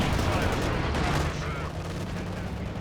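Anti-tank gun fire in a real-time strategy game, heard as dense, loud battlefield gunfire and booms filling the whole stretch, with a slight drop in intensity midway.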